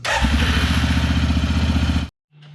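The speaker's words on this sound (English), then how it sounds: "So we'll go ahead and start it up." An Arctic Cat ATV engine, recently repaired for overheating, starts and revs loudly with a steady chugging rumble for about two seconds, then cuts off abruptly.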